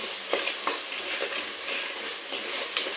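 Three green chilies frying in ghee in a clay pot, a dense, bright sizzle and crackle with occasional scraping stirs, steady and close.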